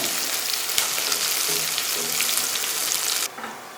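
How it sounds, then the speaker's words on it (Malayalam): Steady hissing sizzle of mustard seeds popping in hot oil, with scattered sharp crackles throughout, cutting off abruptly near the end. "ഇപ്പോൾ നമ്മുടെ കടുക് പൊട്ടി വരുവാണ്"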